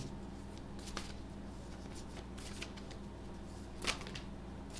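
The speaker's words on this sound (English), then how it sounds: "You saw me shuffle." Tarot cards being shuffled by hand: soft papery riffles and flicks in quiet bursts, close but low in level, with one slightly sharper snap near the end.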